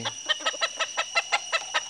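Bantam chickens in a coop clucking in a quick, even series of about nine sharp calls, close and clear over a faint background.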